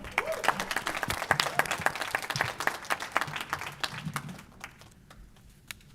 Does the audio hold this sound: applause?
yes